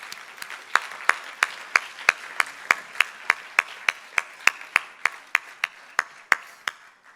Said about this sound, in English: Can we give a round of applause to all the Group 4 boys?